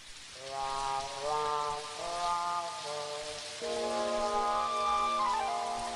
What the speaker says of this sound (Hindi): बारिश फिर शुरू हो गई।